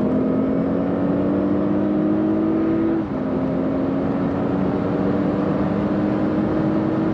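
A 2016 Audi S8 Plus cruising on a German autobahn gives a steady loud engine drone with road and wind roar, and one brief dip as the gear shifts partway through.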